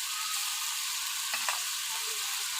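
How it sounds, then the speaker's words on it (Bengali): Water for a tilapia fish curry boils in a pot, giving a steady, dense bubbling hiss throughout with a couple of brief soft knocks near the middle. "এই দেখুন জলগুলো ফুটে গিয়েছে।"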